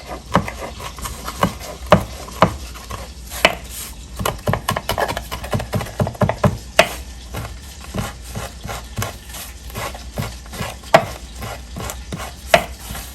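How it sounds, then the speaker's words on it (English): Rapid knife chopping fresh thyme on a cutting board, irregular bursts of sharp taps close up, with no voices. "Continue to chop it on up."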